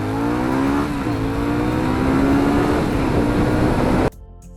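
A Honda CX motorcycle engine of 65 horsepower roars loudly and climbs steadily in pitch as it accelerates, then cuts off abruptly near the end.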